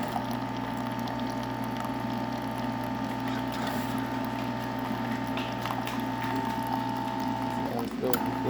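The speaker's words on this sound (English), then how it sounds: "now the machine is pumping out water" Keurig K4000 coffee machine after a full service, pumping water and dispensing coffee with a steady mechanical hum, rattling pump pulses and faint liquid gurgle, continuous throughout.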